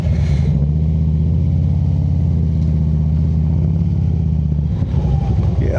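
Motorcycle engine droning steadily at close range during a ride on a scenic campground road, a continuous low rumble with mild throttle changes throughout.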